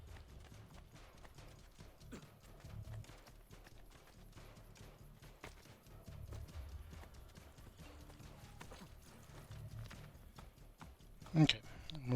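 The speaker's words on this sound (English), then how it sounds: "we're following him on horse again" Galloping horse hooves in the video game Assassin's Creed: Brotherhood, a fast, steady clip-clop rhythm throughout at moderate level, with a voice speaking over it and a brief louder burst near the end.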